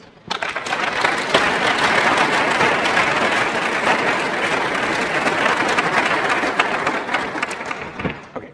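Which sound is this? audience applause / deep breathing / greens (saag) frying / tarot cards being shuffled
audience applause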